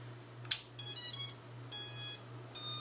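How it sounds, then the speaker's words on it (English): A drone's ESCs play their startup tones after power is connected, a short click followed by a series of bright electronic beeps stepping up and then back down, close and clear against a low steady hum. "you can hear that our ESCs automatically gave us the tone up and the tone back down"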